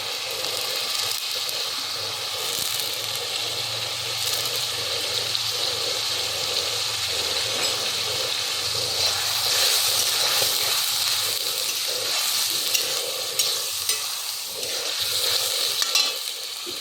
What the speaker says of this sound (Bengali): রসুনের কাঁচা গন্ধটা যাওয়া পর্যন্ত ভাজব